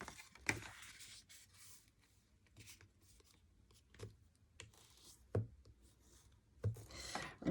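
A bone folder creasing folds in paper for a handmade mini album, faint dry rubbing and scraping strokes with a few sharper taps, quiet and close.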